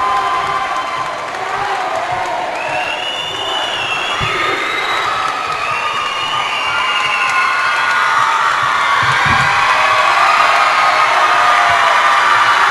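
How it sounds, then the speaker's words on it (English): At a girls volleyball state championship match in a gym, a large crowd cheers, whoops and shouts in a loud, sustained roar that swells toward the end, with high youthful voices and scattered applause mixed in. "Listen to the crowd."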